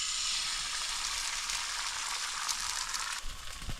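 Breakfast of ham and eggs sizzles steadily in a pan on a wood-burning stove inside a hot tent during winter snowstorm camping, a dense continuous frying hiss up close with a faint clink near the end.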